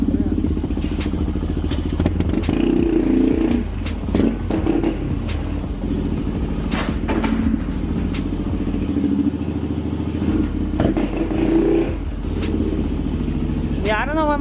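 A small motorcycle with its engine light on rides away and revs, a steady engine drone with rising throttle bursts and some clatter, fairly close, with people talking over it throughout.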